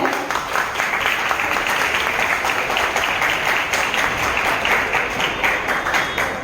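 Schoolchildren in an audience at a Hindi Day school function clapping steadily, a dense, even patter of many hands that carries on without a break, moderately loud and close.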